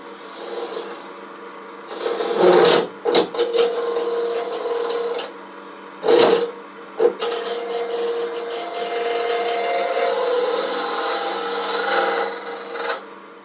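Hollowing tool cutting into a spinning boxwood box on a wood lathe, a steady close scraping rasp with a few sharper louder bursts as the tool bites in, no voices.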